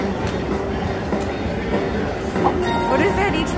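A train sound effect plays from a Luxury Line slot machine in a casino: steady rumbling clatter, loud and continuous over the casino's noise.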